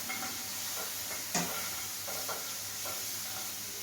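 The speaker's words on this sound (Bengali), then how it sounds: "এর মধ্যে আমি পেঁয়াজ আর লঙ্কাটা আগে ফ্রাই করে নিচ্ছি।" Onion and chilli fry in a pan, a faint steady sizzle broken by a few light stirring scrapes and one sharper clink, heard close.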